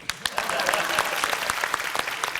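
Audience at a comedy stage show clapping steadily, a dense patter of many hands that holds at moderate level for the whole stretch without voices over it.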